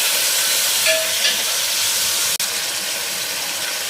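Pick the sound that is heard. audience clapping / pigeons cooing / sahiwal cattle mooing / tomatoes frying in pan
tomatoes frying in pan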